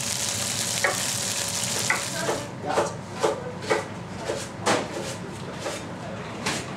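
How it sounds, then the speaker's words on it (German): Garlic sizzles on its own in a frying pan in a Swiss chef's kitchen, a steady frying hiss broken by repeated scraping and stirring strokes from a utensil. "Heute wird der Knoblauch separat gebraten."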